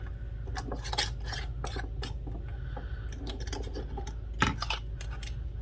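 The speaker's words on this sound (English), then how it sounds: "just putting all my lids and rings on" Metal lids and rings being screwed onto glass canning jars for homemade mock salted caramel, making close, scattered clinks and scratchy twisting sounds in irregular bursts, with no talk.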